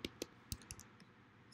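Fingers tapping out a short word on a computer keyboard, a handful of sharp separate clicks over about a second and a half, fairly close and quiet, with no voice.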